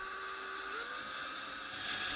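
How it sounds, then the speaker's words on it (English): A drill bores holes through an aluminum truck cap rear door hinge, giving a steady, continuous whine that shifts slightly in pitch partway through, fairly close and with no talking. "Now I'm drilling each one."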